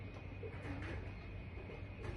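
Pigeons or doves cooing softly at a distance as birds gather to drink, a low steady murmur of calls with faint background hum and no talking.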